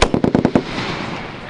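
A military machine gun fires a short burst of about six rapid, loud shots during walk-and-shoot infantry training outdoors, followed by a fading echo.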